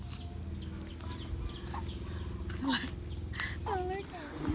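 Chickens clucking and squawking at close range in a rural setting, several short calls scattered over steady low background noise, with some human vocal sounds mixed in.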